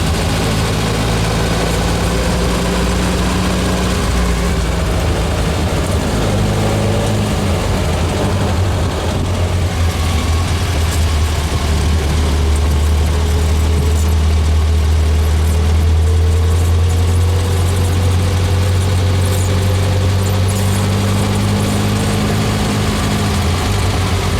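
A VW 1800 engine drones steadily and loudly from inside the car on the drive home, a continuous low hum with slowly shifting pitch that runs throughout with no talking.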